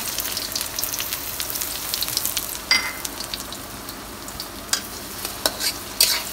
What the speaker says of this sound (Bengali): যখন গরম তেলে পেঁয়াজ দিয়ে দিচ্ছে,